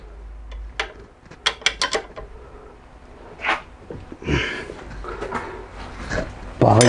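A ratchet wrench on an extension bar tightens a rear brake bolt on a Dodge Charger SRT8: a burst of quick ratcheting clicks, then scraping and clanking of tools, with someone speaking French in between.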